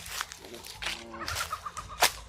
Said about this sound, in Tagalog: mga manok na wild dito, wild.